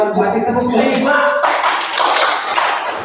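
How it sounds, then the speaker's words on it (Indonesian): Indonesian audience at a teacher dissemination session clapping hands together, a dense burst of close applause that swells after a muffled spoken moment at the start. "Tepuk tangan buat Bu Asri. Tepuk lima."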